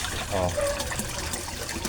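Water from a koi pond waterfall fed by a submersible pump trickles and splashes softly and steadily, faint and close, with no voices.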